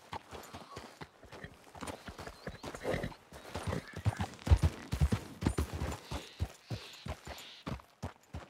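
Horse hooves clip-clopping in the Red Dead Redemption 2 video game, an uneven series of sharp, close hoof strikes with quiet gaps between bursts.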